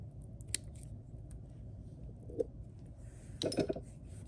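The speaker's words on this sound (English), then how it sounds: "we're going to overlap it a little and cut off the extra" Scissors cut off the excess material from a Christmas cookie shaker magnet DIY kit, a few isolated snips over quiet background, the last a quick double cut.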